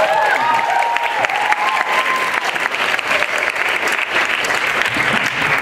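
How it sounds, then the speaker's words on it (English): Loud, sustained applause from a crowd for a performer at a world music event, dense continuous clapping with a few cheers or whoops rising above it early on. "Round of applause for Innocent, please."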